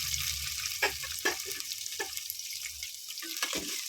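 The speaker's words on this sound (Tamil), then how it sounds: "இதை நல்லா வதக்கிக்கணும். கலர் மாற வரணும், நல்லா வதக்கணும்." A large chopped onion fries in a pan for chicken biryani, with a soft, steady sizzle and a few quick scrapes and clinks of stirring, close and moderately loud.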